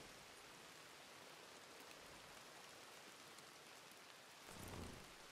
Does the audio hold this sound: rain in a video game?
yes